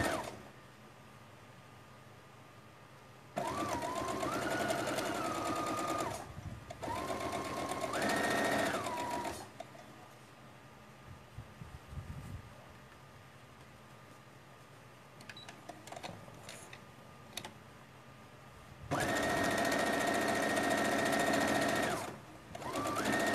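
A sewing machine stitching a fabric hem for a rag doll runs slowly in several bursts of humming, whirring motor and needle clatter, with quiet pauses and handling knocks between runs, close to the microphone.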